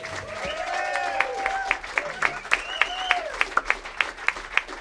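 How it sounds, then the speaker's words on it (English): Audience applause with scattered claps and cheers, a few whistles rising above the crowd, fairly distant and steady. "Jen Rashley, give it up."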